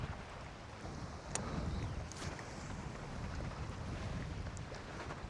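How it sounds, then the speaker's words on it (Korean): Strong wind buffets the microphone at Soyang Lake during a fishing outing, a steady, loud broadband roar that gusts slightly throughout with no talking. "바람이 너무 많이 분다"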